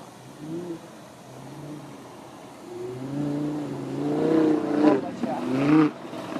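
A Lamborghini drift car on a race track, heard as an engine rising and revving from a distance and growing louder toward the end, with people talking nearby.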